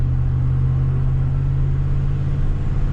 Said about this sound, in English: driving along in the country